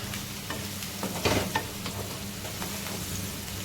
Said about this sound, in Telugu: మంచి ఇవి నూనెలో కూడా ఒక 2 నిమిషాల దాకా మంచిగా మగ్గనియాలన్నమాట